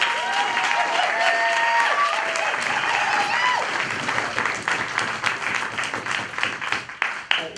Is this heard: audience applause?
yes